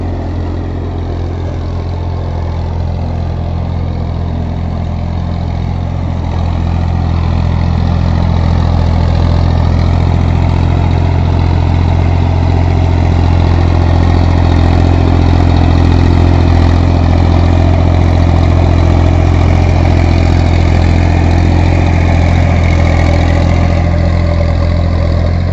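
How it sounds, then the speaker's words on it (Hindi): Massey Ferguson 1035 DI 35 hp tractor pulling a new 6-foot Shaktiman rotavator in a field, its diesel engine droning steadily and loudly throughout, growing slightly heavier partway through, with no talking. "कोई भी दिक्कत नहीं आया बिल्कुल ट्रैक्टर चलाने में, देख सकते हैं आप।"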